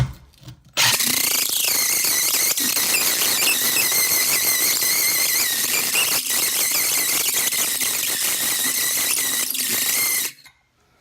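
A loud, steady grinding squeal from a cheap diamond hole bit boring into granite. It continues for about ten seconds, then stops abruptly.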